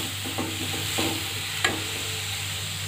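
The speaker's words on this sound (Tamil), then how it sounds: "இது ஒரு 2லேருந்து 3 நிமிஷம் வரைக்கும் வதங்கட்டும்" Banana flower and lentils sautéing in a pan, with a steady soft sizzle and a series of spoon scrapes and stirring clatters, one sharper knock near the end, all close and with no talking.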